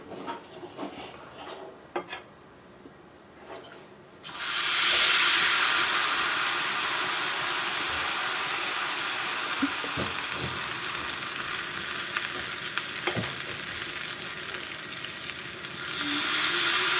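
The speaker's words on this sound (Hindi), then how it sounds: "हम इसमें थोड़ा थोड़ा करके बैटर डालेंगे, जिससे ये इसके बहुत छोटे छोटे ड्रॉप से बने और ये इमीडिएटली फ्राई होके साइड पे लग जाए" Ghevar batter is poured in small drops into hot fat in a steel pot and sets off a loud, sustained sizzle. Quiet kitchen clinks come before it, and the frying then hisses steadily, swelling again near the end.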